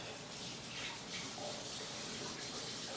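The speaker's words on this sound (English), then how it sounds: "I'm just washing my hands." Water runs steadily from a kitchen tap as hands are washed at the sink, a continuous close hiss and splash lasting throughout with no talking.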